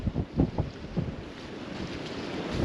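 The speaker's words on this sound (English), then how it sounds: "What I'm also noticing is how the wind is really picking up." Strong wind blows across a lake, buffeting the microphone in heavy low gusts that are loudest at the start and then settle into a steady rushing roar.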